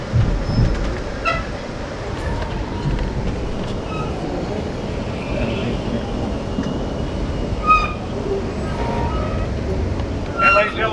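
Amtrak Coast Starlight passenger train pulling into Oakland, a steady low rumble of railcars with occasional squeals and clanks, heard from inside the train with a faint announcement voice in the background.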